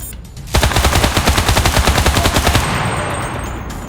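Rapid automatic gunfire in the battle royale video game Cuisine Royale, a steady loud burst of evenly spaced shots lasting a couple of seconds before fading into ambient game noise.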